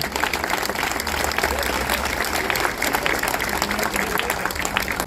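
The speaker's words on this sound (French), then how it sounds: "vous pouvez l'applaudir" A crowd at an exhibition opening applauds steadily, a dense wash of clapping that holds at an even level throughout.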